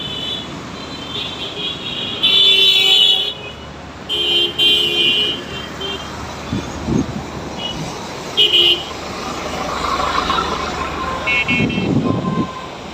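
Busy street traffic in Dhaka during a road crossing, with several loud car horns honking in short bursts over a continuous roar of engines. Faint voices can be heard at times.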